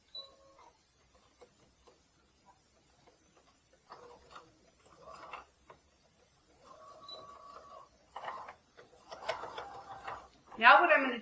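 Household sewing machine re-stitching the end of a bra band, short bursts of whirring stitching separated by pauses, ending in a louder run.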